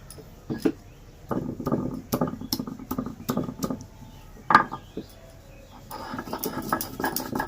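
Whole cumin, green chillies and a piece of ginger are ground by hand into a paste, heard as a string of short, uneven knocks and scrapes of stone on stone, fairly close and alone.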